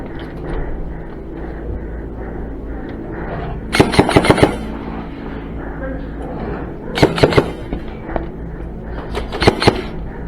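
Airsoft guns rattle off in an indoor arena flag game, three sharp bursts of rapid clicking shots standing out over a constant hum of background chatter and movement.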